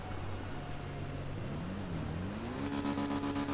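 A motorbike or car engine in GTA 5 hums steadily, with its pitch rising and wavering as it revs up toward the end, heard at moderate level with no talking.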